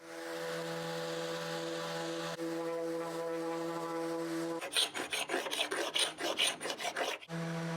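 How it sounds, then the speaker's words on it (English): Plywood is sanded by hand to strip heavy paint, with rapid rhythmic rasping strokes starting midway over a steady low background hum, close and moderately loud. "After a lot of sanding"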